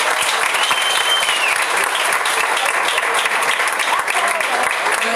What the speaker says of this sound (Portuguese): Aplauda o Senhor Jesus comigo.